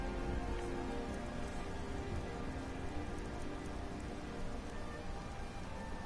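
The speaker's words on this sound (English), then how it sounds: "It's raining again." Steady rain falls in the video game Skyrim, a dense, even hiss of drops with no gaps, holding at a constant level throughout and with no voices.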